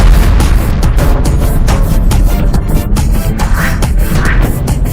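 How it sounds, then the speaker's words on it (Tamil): Bijili firecrackers burst in a rapid, continuous string of loud, close crackling pops that run without a break, dense and harsh throughout. "பிஜிலி வெடி."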